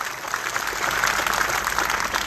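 A crowd at a Gujarati community gathering breaks into sustained applause, a dense, even patter of many hands clapping at moderate distance.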